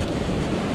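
Ocean surf washing over a beach near Sydney, Australia, a steady, loud, close rush of receding waves mixed with wind buffeting the microphone, lasting under a second.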